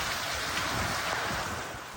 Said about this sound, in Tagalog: Pabugso-bugso rin ang ulan.